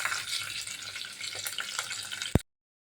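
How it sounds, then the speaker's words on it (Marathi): Garlic sautés with curry leaves and asafoetida in a pan, giving a steady, bright, close sizzle with faint scraping, ending in a sharp knock before cutting to silence. "पाच पानं कढीपत्त्याची घालायची आहेत थोडं हिंग घालायचं आहे लसूणचा कलर सा थोडासा बदलला इतपत आपल्याला छान ते परतून घ्यायचं आहे"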